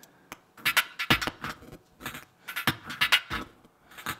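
Beat loop sample played back in a DAW in a techno producer's studio, with crisp percussive hits and clicks in an irregular, syncopated pattern, moderately quiet and with no talking.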